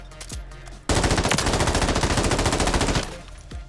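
Rapid automatic gunfire in the video game Warzone: one loud, sustained burst of fast, evenly spaced shots lasting about two seconds, close and dominant over quieter game sounds before and after.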